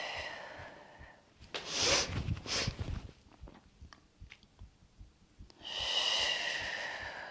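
Breath pushed out during a yoga breathing exercise: two strong close exhales, a stretch of quieter breathing and small mouth noises between them, then a long airy outbreath at the end, with no talking.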